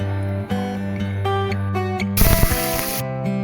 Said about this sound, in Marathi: आता तेल टाकूया.